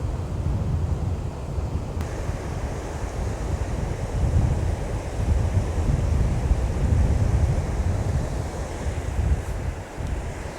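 Ocean waves roll steadily onto a coastal shoreline as the tide comes in quickly, a continuous close surf roar with wind buffeting the microphone and no voices.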